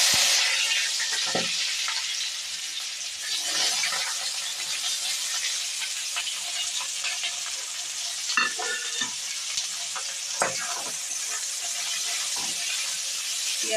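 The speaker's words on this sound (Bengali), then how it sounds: "পেঁয়াজটা একটু লাল লাল করে ভেজে নেব।" Onions fry in hot oil in a wok, giving a steady, close sizzle throughout with scattered scraping stir strokes and small crackles, and no talk.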